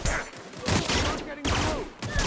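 Gunfire from a firefight in the video game The Outer Worlds: Spacer's Choice Edition, dense bursts of shots in two loud waves, with game voices mixed in.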